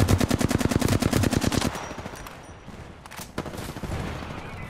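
Rapid automatic gunfire in a video game rattles loudly in a dense, steady burst for under two seconds, followed by quieter scattered shots and ambient game noise.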